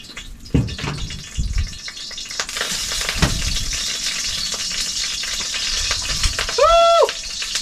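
Food sautéing in a hot pan with garlic about to be added, a steady sizzle and spatula scrapes with a few clanks and thumps, then a brief bright ringing tone near the end; no one speaks.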